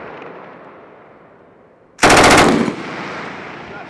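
US Marines on a firing line let off a short, loud machine gun burst from an M2 Browning or M240, a dense rattling volley of about half a second that rings out over steady wind and fades.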